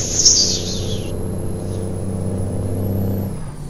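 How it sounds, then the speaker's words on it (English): Air hissing from a truck's blow-off valve in American Truck Simulator, a bright burst over the first second above a steady, loud turbocharged diesel engine drone that continues throughout. "You can almost hear that blow-off valve in the back"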